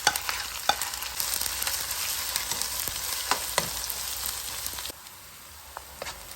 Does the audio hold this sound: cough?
no